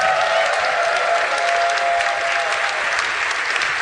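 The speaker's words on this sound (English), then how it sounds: "Let's give a round of applause to McKenna," Audience applause for a guest named McKenna at a live comedy podcast taping, a dense, steady round of clapping from a crowd that holds evenly for several seconds with no talking over it.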